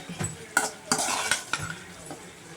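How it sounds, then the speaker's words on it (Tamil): Pearl millet pasta being stirred into masala in a pan, heard as quiet, irregular scrapes and clinks of a utensil with faint sizzling underneath. "இப்போ வந்து பார்த்திங்கன்னா நம்ம மசாலாவில் போட்ட பாஸ்தாவை நல்லா மிக்ஸ் பண்ணிக்குவோம்"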